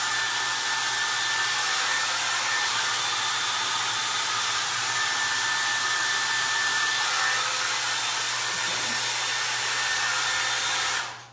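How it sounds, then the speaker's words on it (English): A paint-covered hair dryer, used for drying icing, blows steadily with a constant whooshing hum for about eleven seconds, then cuts off abruptly at the end. "There's so much paint on my dryer that it's really hard sometimes to shut it off."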